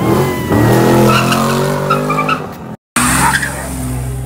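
A V6 car doing a burnout at a downtown summer event, tires squealing loudly and continuously over a roaring, revving engine, with a brief cut before the screech resumes.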